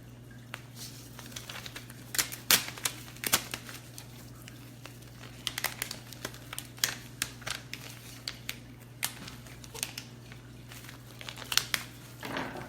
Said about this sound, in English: I find it a lot easier to peel than the 651. And I peel my big pieces first, and then I'll weed away